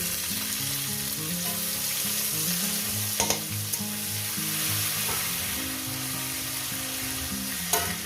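Onions fry with salt in a hot pan, giving a steady, close sizzle with a few sharp spatula scrapes and taps while being stirred, no voices.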